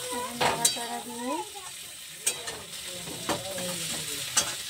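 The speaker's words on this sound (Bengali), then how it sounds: "লাল করে ভেজে নেব।" Cauliflower pieces frying in a pan while being stirred, a soft ongoing sizzle with intermittent clanks and scrapes of the spatula against the metal, fairly quiet and close.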